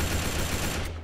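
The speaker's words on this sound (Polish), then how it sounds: "shoot him in the back now" Rapid gunfire from the World War II shooter Battle For The Pacific rattles in a dense, loud burst of overlapping shots that fills the entire brief moment.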